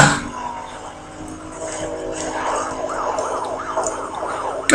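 Police car sirens wail in the racing game Need for Speed: Most Wanted, a rising and falling electronic siren continuous over engine and road noise, moderately loud throughout with no talk.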